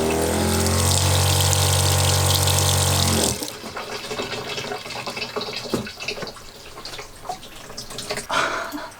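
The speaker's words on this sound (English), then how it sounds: "switch on the pump and see if it leaks or what happens" A 12-volt water pump in a camper van's running-water system hums loudly and steadily as it pressurises the lines, then cuts off, leaving quieter trickling and tapping noises.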